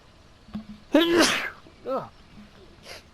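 A person sneezes outdoors on a farm during field liming and fertilizing work, one loud sharp burst followed by a couple of shorter fainter sounds.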